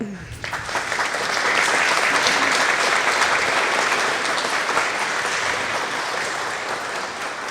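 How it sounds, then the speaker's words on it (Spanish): An audience at a book presentation gives loud, sustained applause to welcome a supreme court judge as speaker, a dense clapping roar that swells quickly and then slowly fades. "César San Martín Castro, a quien recibimos con fuertes aplausos."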